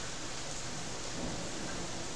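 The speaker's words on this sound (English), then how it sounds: "Don't go out in the storm and watch the lightning." Thunderstorm outdoors, with steady rain hissing as a dense wash of noise and a possible low thunder rumble underneath, continuous and fairly loud without any speech.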